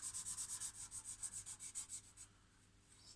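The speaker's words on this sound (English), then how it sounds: "Doing some hand sanding" Rhythmic back-and-forth strokes of hand sanding on a chestnut wood bowl, about a dozen even rubs in steady succession that fade off near the end, close and fairly quiet.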